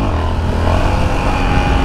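A Yamaha XT660 motorcycle rides along with a loud, continuous engine drone and steady wind rush. The sound is close and unbroken for the whole stretch.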